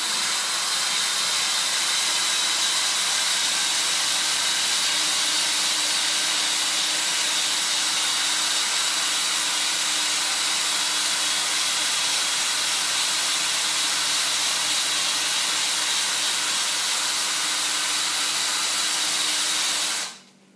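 An electric drill cleaning cast iron spins steadily with a continuous whirring hiss for about twenty seconds, then cuts off abruptly.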